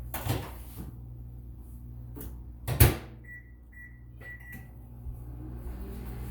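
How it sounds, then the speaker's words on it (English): A microwave oven heating sweet potatoes in water in a small prep dish: a door thuds shut, then several short electronic beeps sound over a low, steady hum. "put some water in it, and microwave them"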